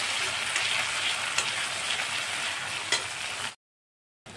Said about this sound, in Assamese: পিঁয়াজখিনি এনেদৰে অলপ লৰাই ভাজি ল'লোঁ